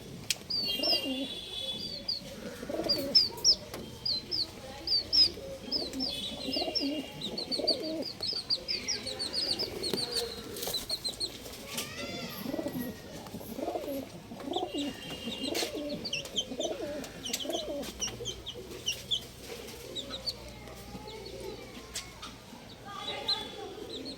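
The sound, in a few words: pigeons cooing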